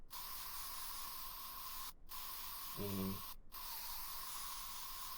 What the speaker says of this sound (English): Here I'm using a spray paint tool.